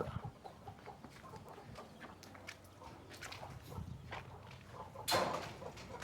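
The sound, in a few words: country chickens clucking near shed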